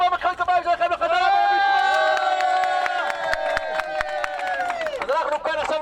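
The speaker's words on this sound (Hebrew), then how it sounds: "איפה המחיאות כפיים שלכם לחזרה?" A crowd at a bar mitzvah celebration at the Western Wall in Jerusalem cheers with a long, sustained shout of voices over sharp rhythmic clapping, loud and close, fading toward the end.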